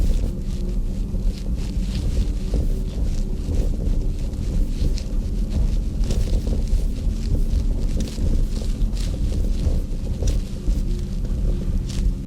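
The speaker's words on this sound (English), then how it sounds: "it's just rattling like crazy back there" Porsche Macan EV driving with its rear hatch rattling, heard as a steady low road and wind rumble with faint, frequent knocks and ticks from the back running through the whole stretch.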